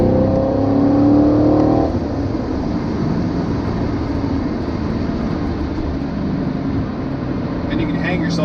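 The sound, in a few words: 2018 Chevrolet Camaro SS 1LE engine while driving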